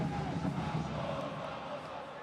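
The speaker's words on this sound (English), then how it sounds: "This crowd trying to urge them on." A soccer stadium crowd roars steadily and urges the team on, a dense wash of voices held at a fairly even level under a commentator's talk.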